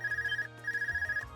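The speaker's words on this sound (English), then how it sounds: "Is that your Arcus ringing? What's this doing ringing out here?" Arcus communicator from the video game Trails of Cold Steel ringing with a repeating electronic chime in two bursts, steady rhythmic trills, clear and alone with no talk.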